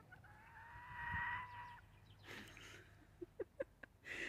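Small hen clucking at close range while eggs are collected from her nest: a drawn-out nasal call, then a quick run of short, sharp clucks, faint and intimate in a quiet coop.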